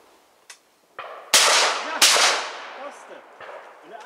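A shotgun fires two loud, sharp blasts about a second apart at an overhead clay target on a hunting clay course, each crack followed by a decaying echo and fainter background noise.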